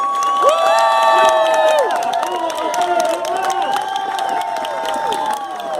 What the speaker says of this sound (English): Some people are clapping for you!